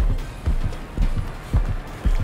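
Footsteps in the horror game Dead by Daylight: four or five heavy, evenly spaced thuds about half a second apart, close and fairly loud over a low ambient bed.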